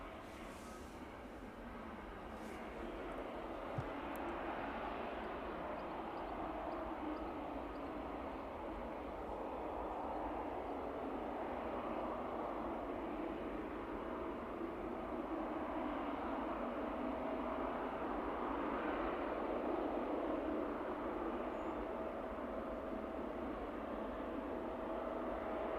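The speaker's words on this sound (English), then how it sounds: "with a bit of luck, 777, the Aerologic 777, should be making its way back out to Leipzig" Aerologic Boeing 777 cargo jet at East Midlands Airport, a steady, fairly distant jet engine roar holding for the whole stretch with a faint tonal whine, no talking.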